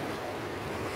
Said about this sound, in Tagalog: Malakas ng alon ng alon.